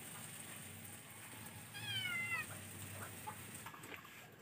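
A cat gives a single faint meow in the distance, rising and falling over a low, steady outdoor background.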